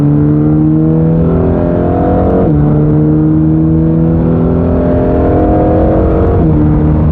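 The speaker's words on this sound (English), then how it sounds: "It's still fun to go up through the revs." A car on a German highway accelerates hard up through the revs, its engine note climbing steadily before dropping at each of two gear changes and rising again, loud and close from inside.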